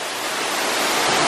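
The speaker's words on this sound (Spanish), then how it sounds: "El desemboque de esta cascada está muy chévere" A waterfall at the end of a rough route, a steady, full broadband rush of falling water, close and unbroken, with no voices over it.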